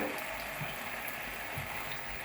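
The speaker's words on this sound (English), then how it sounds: "simmer the tofu on a big fire" Tofu simmering in soy sauce over a high flame, giving a steady, even bubbling hiss that holds throughout with no voices.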